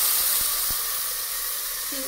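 Onions caramelizing in a pan in a shrimp curry recipe sizzle and hiss loudly and steadily right after shell water is added, with a few small clicks early on.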